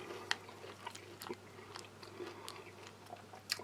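Someone chews crunchy blueberry granola from a US Army MRE, rehydrated with milk. Soft, close crunches and bites come irregularly over a few seconds with no talk.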